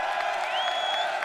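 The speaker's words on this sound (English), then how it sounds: "Round of applause for Miss Halle Berry" An audience applauds and cheers for actress Halle Berry, a steady wash of clapping and crowd noise with a brief rising whistle-like whoop. It holds at an even level across the short stretch.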